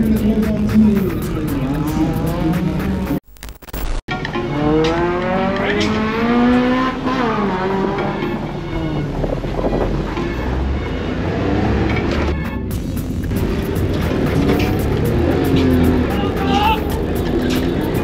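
Car on a slalom competition course, the engine revving and surging in waves with rising and falling pitch, tyres squealing, and a commentator speaking over the loud motor noise.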